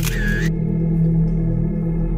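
A single quick camera shutter click sounds at the start, then a low steady hum carries on.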